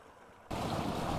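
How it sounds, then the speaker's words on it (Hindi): A water pump motor in a village switches on after a quiet moment and then runs with a loud, steady churning wash of pumped water, close by and continuous to the end. "अभी हमने मोटर जो है वो चला दी इस साइड पे"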